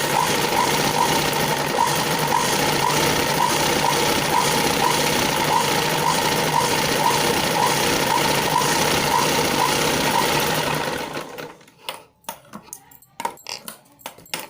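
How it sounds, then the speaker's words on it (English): A sewing machine runs steadily while stitching folded cloth, giving a close, loud, continuous rhythmic whir for about eleven seconds before stopping, followed by a few scattered handling knocks. "So you have to fold the cloth and you have to make a stitch on it"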